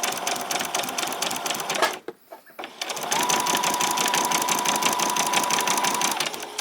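A sewing machine stitches a summer garment, running in a fast, steady clatter, pausing briefly, then resuming for a longer stretch, loud and close.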